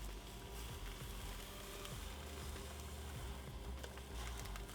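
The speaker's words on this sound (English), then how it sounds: "You hear that sizzle? That's what you want to hear." Steady crackling sizzle of a stuffed pork chop frying in a hot pan, dense and continuous, with faint pops and clatter throughout.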